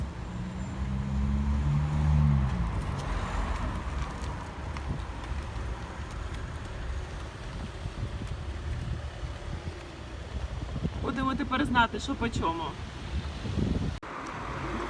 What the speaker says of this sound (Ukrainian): Я казала, що вітер дуже сильний.